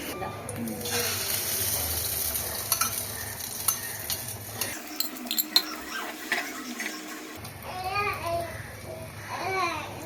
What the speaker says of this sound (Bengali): সেই জন্য ডিমটা ভেজে নেবে